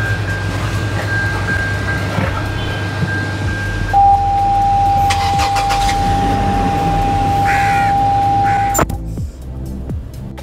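Toyota Land Cruiser LC250 SUV, new 2024 model, running steadily with a low engine drone and tonal whine, then a louder surge and clunk near the end as it gets underway.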